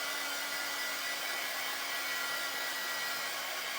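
Hair dryer blowing on silkscreen ink, a close, continuous steady whoosh with a faint hum, unbroken and alone.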